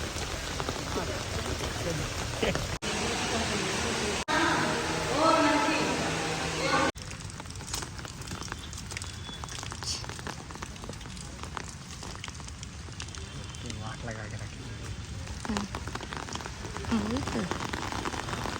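Rain falling at the Sarnath temple complex in Varanasi, a steady wash of drops on hard surfaces with a few sharp knocks early on, while people talk nearby.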